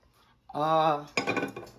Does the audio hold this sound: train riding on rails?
no